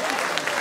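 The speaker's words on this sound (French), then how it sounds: "les applaudir pour les remercier" Audience applause at a carnival show in Jargeau, a dense, steady wash of clapping from a crowd, with some voices mixed in, over a short burst.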